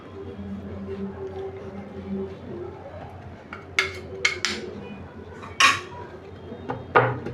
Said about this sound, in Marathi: कालथ्याचं लागलेलं काढून घ्यायचं चमच्याने